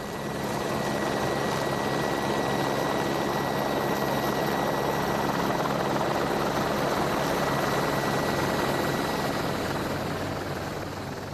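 Helicopter airlifting a summit cross in the Austrian Alps, a loud continuous rotor and engine roar with steady blade chop, sustained and close for the whole stretch.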